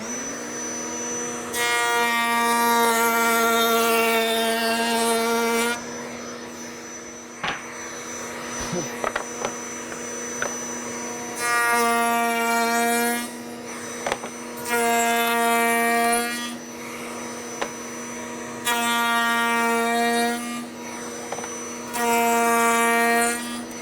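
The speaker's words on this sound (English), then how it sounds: "all I'm going to do is cut a cope cut along this piece right here" Cope cutter cutting cope cuts along small wood blocks for glass panel doors: a motor hums throughout while loud bursts of cutting whine come and go in several passes, with brief knocks in between.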